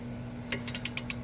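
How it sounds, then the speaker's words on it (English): Extended-handle ratchet straining against a very tight bolt while removing the driver's side CV axle of a Chevy Cruze, giving about six sharp, close clicks in an uneven rhythm over a steady low hum. "we're going to get on here with our extended handle ratchet, and we're going to work on breaking this loose"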